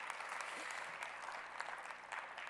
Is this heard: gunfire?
no